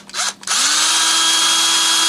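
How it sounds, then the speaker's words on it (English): A power drill, fitted with a clipped brad as its bit, pre-drills holes in tiny wood molding: two short whirring bursts, then a steady high-pitched spin that holds loud and close to the end. "just pre-drilling the holes to make sure they don't split out"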